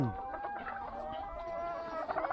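Chickens clucking and calling close by, several birds overlapping in a continuous, busy farmyard chatter.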